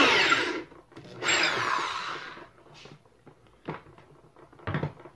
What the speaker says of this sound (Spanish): vean que fue muy fácil con la ayuda del taladro abrir el hueco